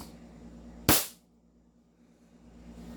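An upgraded 2011 MK1 Elite airsoft pistol fires a single sharp, loud crack during a chronograph test, with a short decay over a quiet room hum.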